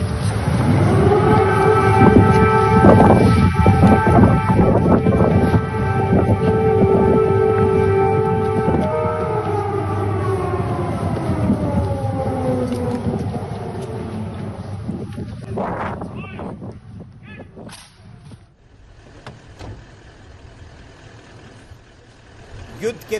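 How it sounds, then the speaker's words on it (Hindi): A wailing air raid siren in Ukraine during wartime holds a steady tone, then slides down in pitch and fades, heard outdoors over wind and distant rumble. "तो किस तरह के एयर रेड सायरन बज रहे थे,"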